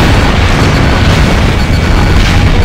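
A tank is blown apart in the Ace Combat Infinity video game: a loud, continuous explosive roar that fills every moment, heavy and rumbling, with no talking.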